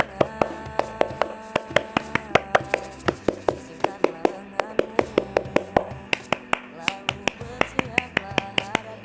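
Pramuka scouts perform rhythmic patterned clapping, a sharp sequence of close hand claps in groups repeated across several rounds, with brief speech between.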